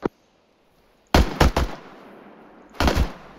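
Suppressive gunfire in the video game Arma 3: a lone sharp shot, a pause, then a rapid cluster of loud close bursts, a lull with fading echo, and another short burst near the end.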